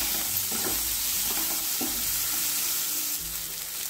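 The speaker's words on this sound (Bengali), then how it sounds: "পেঁয়াজটা একটু ব্রাউন করে ভেজে নেব" Onions browning in a pan before chopped tomato goes in for a bitter gourd curry, a steady loud sizzle with a few faint stirring scrapes, no voices.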